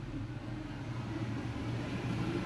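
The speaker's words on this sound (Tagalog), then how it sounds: "Sorry sa ingay, ha? Kasi nasa tabing kalsada yung shop." Road traffic rumbles steadily outside a roadside shop, a continuous broadband wash of passing vehicles with no talk over it.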